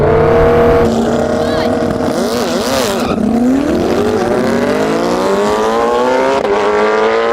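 A Koenigsegg Jesko and a supercharged Suzuki Hayabusa launch in a drag race. One loud engine note wavers, then climbs steadily through the revs and dominates the whole stretch with no break.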